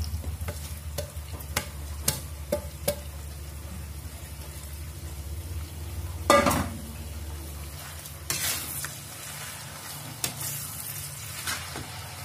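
Shrimp stir-fry in a hot pan with a soft steady sizzle, with a spatula scraping and clinking against the pan now and then and a louder stir midway, and no talking.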